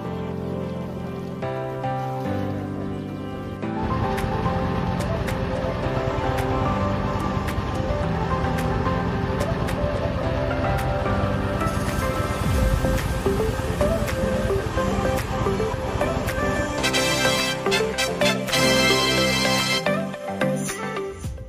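A trawler boat crossing a river, its motor chugging steadily with a dense rumble of engine and splashing water, holding at a constant loud level throughout.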